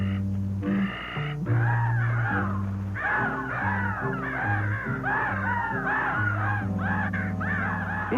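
Crows caw repeatedly and loudly up close in a dense, overlapping series of harsh calls that continues without pause, with no talk over them.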